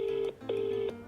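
Outgoing phone call ringback: two steady, loud electronic tones with a short gap between them, heard alone without any voices.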